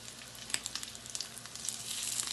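Guyanese-style salmon patties fry in a hot pan, a soft, steady sizzle with small crackling pops, heard close and alone.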